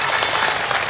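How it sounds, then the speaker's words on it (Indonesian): Applause from a crowded audience at an Islamic sermon gathering, a haul commemoration, steady broadband clapping filling the whole second without pause. "Pak Menteri aja tepuk-tepuk"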